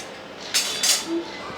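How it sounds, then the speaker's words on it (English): A utensil stirs chopped onion into potatoes in a pan, giving two short scraping clinks close by against a quiet background. "So that onion can also get mixed with the potatoes"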